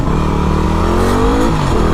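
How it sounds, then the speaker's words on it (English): Close, loud engine of a WR250R motorcycle revving while riding, a steady buzzing drone with pitch climbing under acceleration, then easing slightly at the end. "Fast bike, you know, I'm not even near the top end of that thing."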